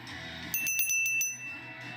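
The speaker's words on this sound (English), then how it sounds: "the real winner was actually these bells that I found in a thrift shop" A set of bells found in a thrift shop rings out in a bright, glassy jingle of several rapid strikes lasting about three-quarters of a second, close and clear over a low background hum.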